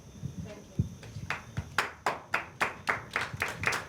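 Audience applause at a panel discussion on human rights and national security, a sparse scatter of claps building into a steady run of sharp hand claps, fairly near and moderately loud, with faint talk at the start.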